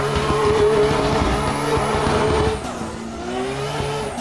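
Drifting car in the Assetto Corsa racing game, circling a Oi Wharf (Ōi Futō) circuit: a loud, steady engine drone with squealing tires that eases off slightly partway through, with no talk.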